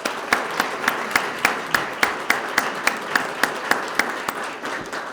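Steady rhythmic clapping at a police swearing-in ceremony, evenly spaced claps at a moderate pace over a softer wash of scattered applause from a small group.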